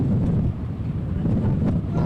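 Strong wind gusts buffet the microphone at a high school baseball field, a loud continuous rushing roar with no other sounds.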